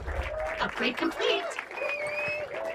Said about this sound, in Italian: Vanno gli applausi.